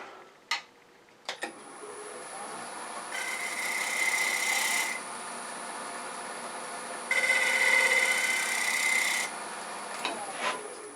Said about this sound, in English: I think I'm going to refine that with a negative rake scraper.